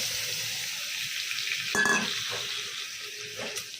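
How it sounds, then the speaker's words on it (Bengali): Prawns sautéing slowly in a pan with their cooking water, a soft steady sizzle broken by a louder scrape of stirring midway, close-up and without talk. "এটা দিয়েই আস্তে আস্তে কষিয়ে নেবো"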